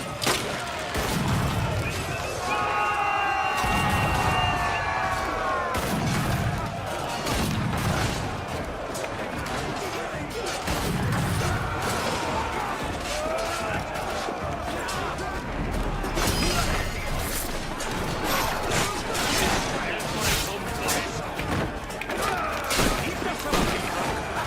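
Video game gunfire erupts in rapid bursts and volleys, mixed with heavy crashes and booms that keep up a loud, chaotic barrage from start to finish.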